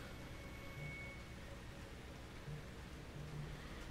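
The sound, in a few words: rain of blood in the video game Outlast 2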